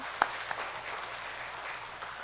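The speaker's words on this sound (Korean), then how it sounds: "우리 박수하겠습니다" A church congregation applauds after a choir and chamber ensemble performance at a Sunday service, a soft, scattered patter of clapping with one sharper clap near the start, fairly faint and brief.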